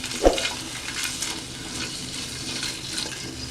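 Sliced onion frying in oil in a kadai gives a steady, close sizzling hiss, opened by one brief sharp clatter.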